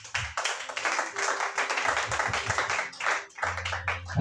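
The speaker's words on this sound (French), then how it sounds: "Acclamez le Seigneur Jésus." A church congregation claps and acclaims Jesus during a French-language worship service, a steady stream of hand claps and cheering voices with a low sustained tone underneath.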